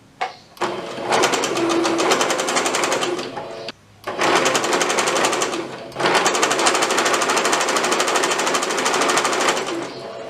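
A sewing machine runs a straight seam along the folded plush hem of a Santa hat in loud, rapid, rattling bursts, with two short breaks in the stitching.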